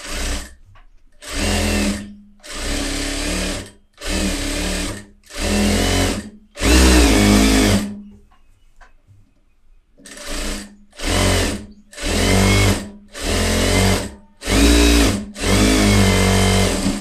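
A sewing machine stitches cloth in bursts, running loud and close for a second or two at a time and then pausing. A longer quiet gap falls midway before the rapid runs start up again.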